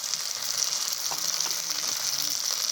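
Ground spice paste, dried red chilli and Kashmiri chilli powder sizzling in hot oil with fried onions for a potol chingri curry, a steady close hiss with faint stirring.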